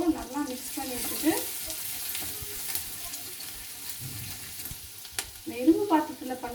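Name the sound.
okra fry cooking in an iron pan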